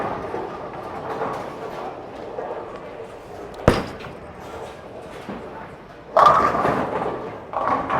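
A bowling shot with a Zen bowling ball in a league setting: a low rolling rumble down the lane, a sharp impact partway through, then a louder crash of pins, with alley noise around it.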